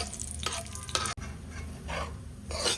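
Semolina (rava) stirred and roasted in a pan at home, short scraping strokes of a spoon against the pan recurring every second or so, close and fairly soft, with no talking.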